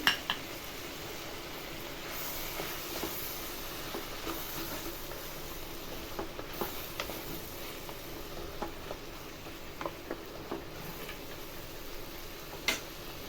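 Softened vegetables and cashews fry quietly in a pan, a faint continuous sizzle broken by light scattered ticks and scrapes from stirring, with no talking.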